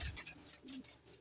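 Pigeons coo softly in a short, faint burst, close by amid a low background hiss.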